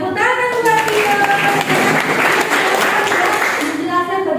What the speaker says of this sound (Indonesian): Tepuk tangan buat Tio.